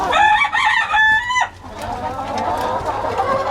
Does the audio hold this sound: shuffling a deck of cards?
no